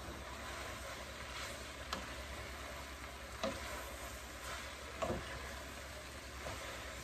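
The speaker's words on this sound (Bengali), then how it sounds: "ভালো করে আমি উল্টায় পাল্টায় দেব সবগুলো মশলা, যেন সবগুলো নুডলসের মধ্যে যায়" Noodles stir-fried in a pan with spices and soy sauce, giving a steady, close sizzle broken every second or so by the scrape and clank of a spatula tossing them.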